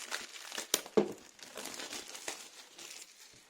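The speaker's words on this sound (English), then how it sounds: "And remove the packaging, this plastic film." Plastic film being crumpled and peeled off a Skullcandy Crusher Wireless headphone box, a close crinkling and rustling that runs throughout with a couple of sharper snaps near the start.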